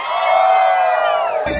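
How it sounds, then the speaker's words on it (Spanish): A concert crowd at Law Tennis shouts in one sustained loud roar of voices, close and steady, ending with a brief burst of noise. "Un grito, chicos, un grito."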